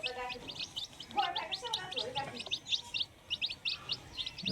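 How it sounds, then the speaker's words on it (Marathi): Chicks of a free-range village hen chirp rapidly and repeatedly in high, thin peeps while drinking water nearby, with a few lower sounds mixed in. "कोंबडी शिकवते पिल्लांना पाणी प्यायला बघा"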